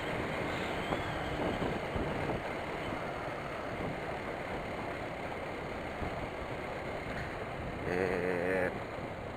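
A passing vehicle's engine revs loudly and steadily at close range, swelling briefly near the end over a continuous background rumble.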